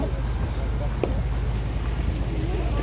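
Tour boat motoring along the Azmak river at Akyaka, with a low steady engine rumble and water and wind noise throughout, while people talk nearby.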